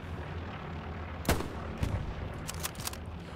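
Sharp gunshots crack over a steady background rumble in the video game Hell Let Loose, one loud burst followed by several scattered, irregular shots.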